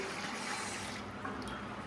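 Water is poured steadily into a measuring container, a continuous close splashing and filling gush with no talk over it.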